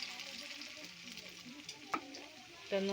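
Soft, steady sizzling of banana slices frying in oil, with a couple of brief clinks and scrapes near the end.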